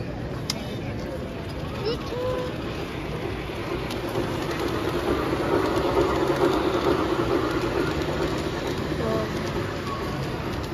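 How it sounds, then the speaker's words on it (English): Trains at a children's museum, a steady low rumbling and rolling drone running throughout under a busy, echoing hall with voices chattering in the background. "we're looking at some trains."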